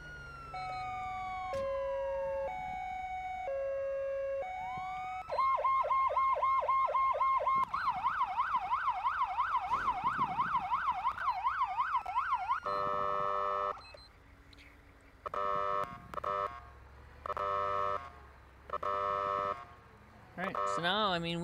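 An ambulance siren from the Siren Mastery siren pack cycles through its tones. Slow rising and falling wails give way to a rapid warbling yelp, then choppy, stuttering horn-like bursts. The sound is clean, close and electronic.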